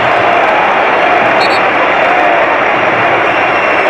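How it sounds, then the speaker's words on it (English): A football home crowd at a Portsmouth EFL Championship match applauds a player's effort, a steady, dense wash of clapping and crowd noise holding level throughout. "the home crowd appreciating the efforts of Terry Devlin there"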